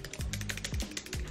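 Keyboard typing sound effect, a steady run of quick, light key clicks at moderate level, with a few dull low thuds spaced through it, and no voice.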